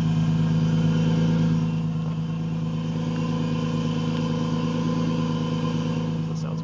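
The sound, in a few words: supercharged 2005 Nissan 350z engine idling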